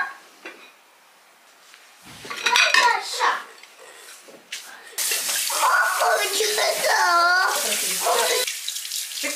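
Dishes, pots and cutlery clatter in a kitchen sink under running tap water after a big lunch, with a loud steady stream from about five seconds on; a voice is faintly present.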